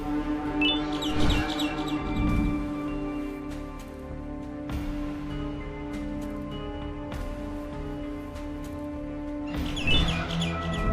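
Birds chirp in short, bright bursts over a sustained droning synth tone in the video game Garten of Banban 6, with repeated tweets returning near the end.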